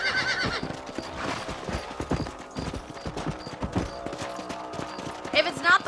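A horse in the Red Dead Redemption video game on Xbox One clops its hooves in a quick, uneven rhythm and lets out a loud whinny, close by, among other game sounds.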